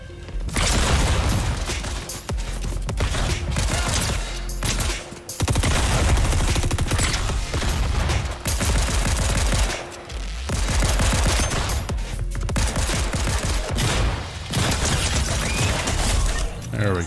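Dense, rapid gunfire from the video game Fortnite, bursts of shots and booms running almost continuously with brief gaps, loud and close, with a player's voice talking over it.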